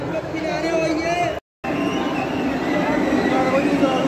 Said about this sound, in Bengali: এই বন্দে ভারত ট্রেন আসলো,